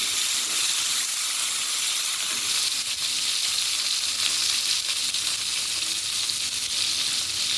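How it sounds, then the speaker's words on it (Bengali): Cashew and tomato paste fry in a pan for a homemade potato dum curry, giving a steady, close, bright sizzle and hiss that runs evenly throughout with no talking. "একটু ভাজা হয়ে যাক, তারপর দেবো।"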